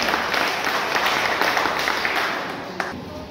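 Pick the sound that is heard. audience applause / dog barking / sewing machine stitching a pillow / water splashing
audience applause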